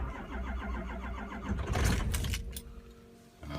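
An engine cranks on a cold start, its starter motor churning in a steady rhythm that swells into a brief rough catch before dying back, then cranks again, all close and fairly loud with no talk.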